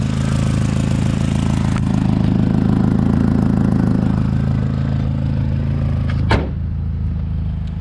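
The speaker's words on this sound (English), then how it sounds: "a little bit of an exhaust manifold leak" A 1994 Honda Accord engine with an exhaust manifold leak idles steadily with a rough, ticking exhaust clatter, loud and close, followed by a brief sharp knock near the end.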